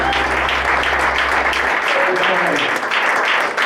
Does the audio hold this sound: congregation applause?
yes